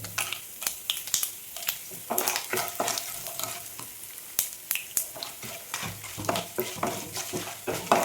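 Three or four dried red chillies fry in oil in a pan for coconut rice, a close, lively sizzle broken by frequent sharp crackles and snapping pops along with stirring scrapes.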